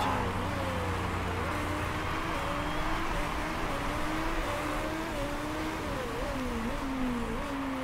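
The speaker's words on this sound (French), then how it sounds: "Le moteur fait des bruits étranges." A race car engine in the racing game Motorsport Manager drones continuously with a wavering, uneven whine that rises and dips in pitch, loud and steady with no talk over it.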